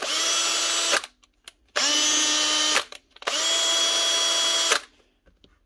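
A power drill in low-speed drill mode with an Allen key in the chuck, working to remove the left-hand-thread chuck screw, runs in three loud bursts of about a second each with brief pauses between them.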